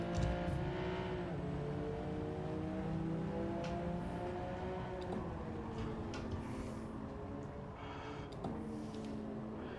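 In a Gran Turismo race, a 2022 Honda Civic Type R engine hums steadily through a corner, with a few brief pitch drops as it downshifts and faint tire noise underneath.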